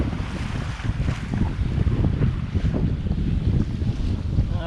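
Continuous wind rushes past a sailboat under a reefed staysail and double-reefed main, with water sloshing along the hull in foggy conditions; steady and close, with no talk.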